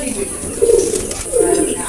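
Two low, throaty pigeon coos, close by, a short pause between them over a faint background hiss.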